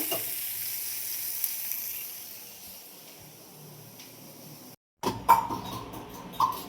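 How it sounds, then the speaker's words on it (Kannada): Chopped tomatoes and garlic fry in a pan for tomato chutney, a soft steady sizzle that cuts off abruptly, then returns louder with a few clinks and stirring scrapes. "ಮತ್ತೀಗ ಬೆಳ್ಳುಳ್ಳಿ ಸ್ವಲ್ಪ ಹುರ್ಕೊಳತ್ತೀನಿ ಇದ್ರಾಗಿ"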